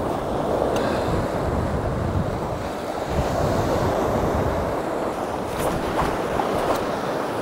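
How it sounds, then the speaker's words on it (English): Strong wind gusting across a UK sea-fishing shoreline, roaring into the microphone over continuous breaking surf, loud and unbroken throughout. "The wind's so strong"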